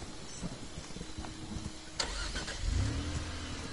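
A car engine in a video game, a steady mid-pitched hum that grows louder and fuller toward the end, with a brief sharp burst partway through and no talking.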